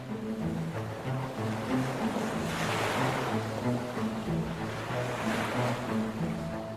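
Steady roar of surf crashing against black cliffs and washing ashore on a remote island in the cold Indian Ocean, loud and continuous, with wind noise rumbling underneath.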